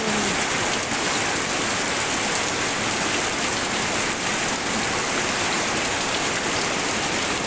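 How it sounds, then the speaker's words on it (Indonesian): A steady downpour of heavy rain with wind in Liwa, West Lampung, gives a thick, even hiss of water pounding nearby surfaces that never lets up, with no talking. "Hujan mengguyur Liwa, Lampung Barat. Lumayan deras"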